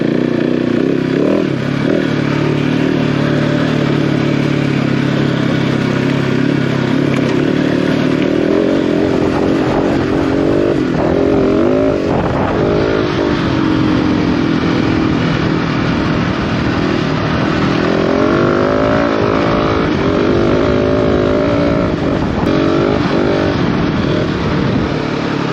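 An enduro motorcycle engine idles and warms up close by, a steady loud rumble with a slight rise and shifting revs partway through, joined by faint mechanical clatter, with no talk.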